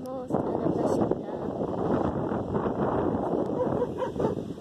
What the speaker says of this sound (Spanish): los perros